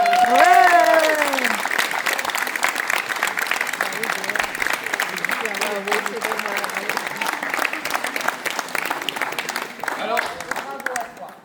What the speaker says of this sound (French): Vous avez participé à cet élan de solidarité et donc pour ça aussi, on applaudit.